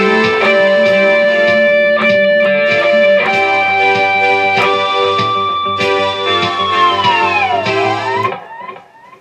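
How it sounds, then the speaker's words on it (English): Electric guitar with effects plays an 80s-style lick of ringing natural harmonics, sustained and bright, ending in a whammy bar dive that bends the notes down and fades out. "So there's a few natural harmonics and a bar dive at the end."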